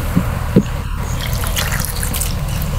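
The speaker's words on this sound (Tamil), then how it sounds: "இன்னும் கொஞ்சம் தண்ணி ஊற்றுனா சரியாக போகும்டா" Water poured into raw banana bajji batter gives a soft, close trickle with a couple of small splashes, heard over a low background murmur.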